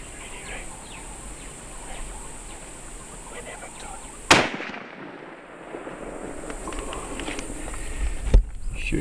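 A rifle shot at a warthog during an outdoor hunt cracks loudly and close. Insects and birds hum steadily in the background, and a fainter second sharp crack follows a few seconds later.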